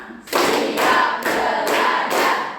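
A school class of seventh graders claps together in unison, five loud counted group claps or short clap bursts at an even, steady rhythm, close and without talk.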